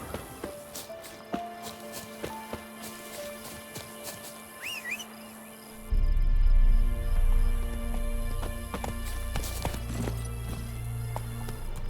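Roach, Geralt's horse in The Witcher 3, breaks into a gallop, rapid rhythmic hoofbeats that swell loud and close midway over faint background game sounds.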